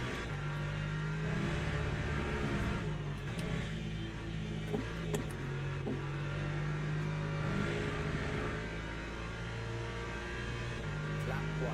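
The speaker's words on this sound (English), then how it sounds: "Hypercar coming through there." Engines from the video game Le Mans Ultimate, including a hypercar, drone steadily throughout with a rising and falling hum as cars rev and pass, under a constant in-car engine tone.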